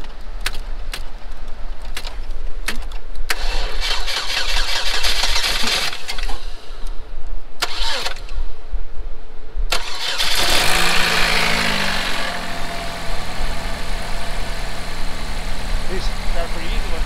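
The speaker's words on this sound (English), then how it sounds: "The engine did start once we got the battery connections all figured out." A Chevy HHR engine starts after a jump start: a series of clicks and clanks, then the starter cranks and the engine catches and settles into a steady idle, with people talking over it.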